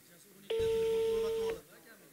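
A single steady telephone tone during a call, about one second long and loud, with faint background noise before and after.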